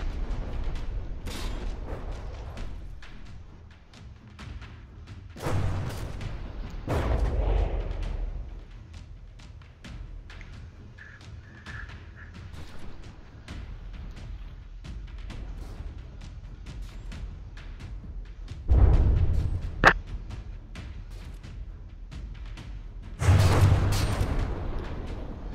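Turret guns fire during a From the Depths tournament battle, with scattered heavy booms and thuds over a low continuous rumble.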